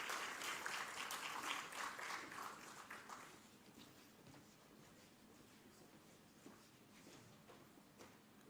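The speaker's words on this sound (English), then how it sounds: "We can have a huge round of applause this lovely evening" Audience applause at an evening education event, fairly loud clapping from a crowd that fades to scattered claps and a quiet room.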